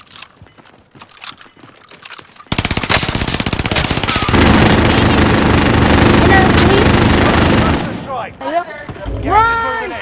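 A minigun roars in Call of Duty: Modern Warfare, a long, loud, continuous stream of rapid-fire shots lasting several seconds after a quieter start with scattered sounds, then cutting off into sweeping whistling game effects.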